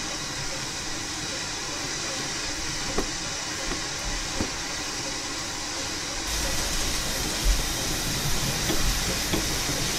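A train runs in the RailWorks train simulator game, a steady rolling hiss and rumble that grows heavier partway through, with no talk over it.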